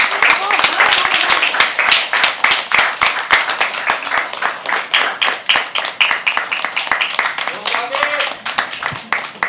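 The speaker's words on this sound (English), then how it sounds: "I want you to start clapping again." Steady, dense applause from a crowd at a live poetry open mic, many hands clapping at once, loud and close, continuing without pause for several seconds.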